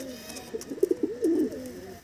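Desi pigeons in a loft give a close, throaty cooing phrase of several rolling pulses, with a few soft clicks and rustles around it.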